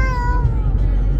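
A child imitates a cat, giving one drawn-out meow close to the microphone over low rumbling background noise.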